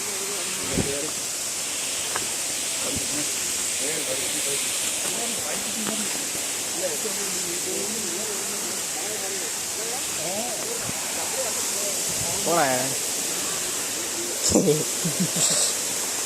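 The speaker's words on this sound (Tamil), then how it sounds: "அருவிக்கு ஒரு வழியா வந்தாச்சு." A steady rush of a waterfall in Kerala roars throughout, with people's voices and occasional sharp knocks heard over it.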